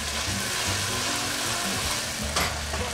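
Garlic frying in a pan for a Cajun Creole pasta sauce, a steady close sizzle with light stirring and a brief clatter near the end, no voices.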